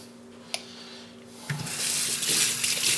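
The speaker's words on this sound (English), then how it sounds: "Let me wash off some of this older mud on there" Running water splashes over a Wachi Aoto sharpening stone to wash mud off it, faint at first after a couple of small knocks, then a steady close hiss of flowing water.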